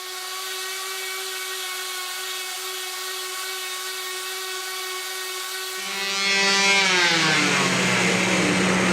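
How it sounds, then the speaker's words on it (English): A steady, high-pitched whine of a power sander on wood runs throughout, rising in pitch and growing rougher and louder toward the end. "You see me here just sanding the top."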